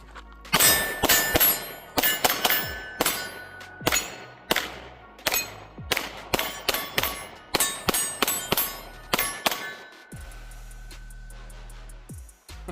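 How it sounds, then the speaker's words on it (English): A Sig Sauer P365 FUSE pistol fires a long string of sharp, loud shots close by, some rapid and some spaced, each ringing briefly, with an open-air hush after the firing stops. "Let's shoot it and see how it feels."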